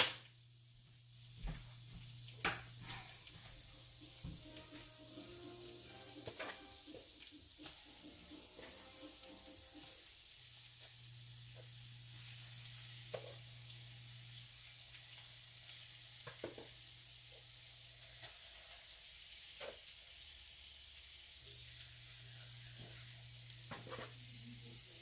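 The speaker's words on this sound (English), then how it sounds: "I am going to go ahead and add the cod. So that can go ahead and start simmering with these seasonings here." Cod fillets sizzling in a pan with garlic butter and seasonings, a soft continuous crackle with scattered pops and clicks of utensils, fairly quiet and steady throughout with a low hum underneath.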